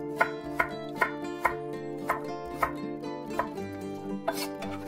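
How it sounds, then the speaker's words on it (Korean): A knife chops a piece of ginger on a cutting board while making kimchi, with about nine crisp, evenly spaced strikes over steady background music. "생강 1톨 썰어줍니다."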